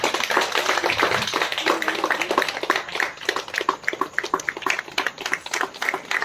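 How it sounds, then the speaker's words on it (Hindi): Audience clapping at an Adivasi Day celebration in Nagpur, a crowd of hands beating in a brisk, uneven rhythm close by, loud at first and thinning into scattered claps. "तालियां बजा सकते हैं।"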